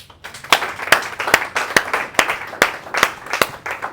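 A church congregation claps in unison, sharp evenly spaced beats roughly every half second, loud and close, over a soft background wash of scattered hand noise.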